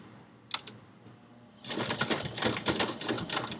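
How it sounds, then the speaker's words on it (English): A sewing machine back stitching through fabric while sewing a zipper pouch, starting with a couple of faint clicks, then a steady, fairly close run of rapid mechanical stitching that carries on to the end. "Now I'm ready to back stitch."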